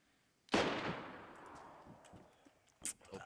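A single loud gunshot in DayZ on the Livonia map, a sharp crack with a long decaying echo, followed by softer scattered clicks and a second quieter pop near the end.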